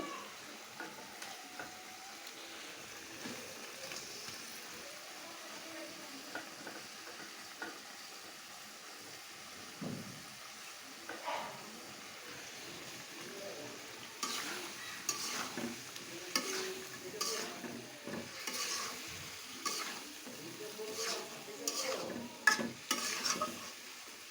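Small washed chicken pieces fry in a pan, stirred now and then, giving a steady low sizzle that grows busier and louder in the second half with scraping clatters; no one speaks.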